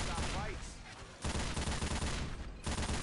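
Machine gun fire in the zombie co-op shooter Left 4 Dead 2, a dense rattling burst that runs throughout, loud and close, with a short lull near the middle and no speech.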